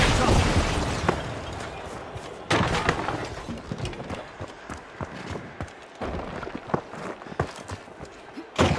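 Rockets burst in The Finals, a video game, as a series of heavy booming blasts and thuds among gunfire and clatter, with a voice talking over them.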